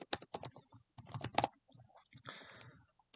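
Computer keyboard typing a material name in Blender, heard as several quick bursts of close, crisp key clicks separated by short gaps.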